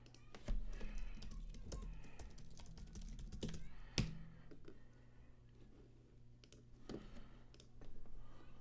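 Steady typing on a computer keyboard, close-up, with quick irregular key clicks and a few heavier strokes over a low background hum.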